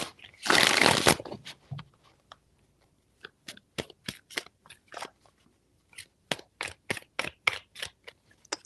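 A tarot deck is riffled once in a dense, close flutter, then squared with a series of sharp, evenly spaced taps and clicks that continue to the end; no voices.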